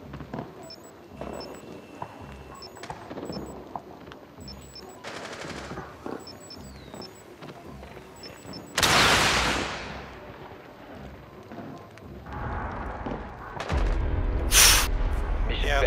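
Gunfire from a shotgun in Rainbow Six Siege during a Favela bomb match, with a loud burst of shots near the middle and more blasts near the end over a busy bed of game effects and distant firing.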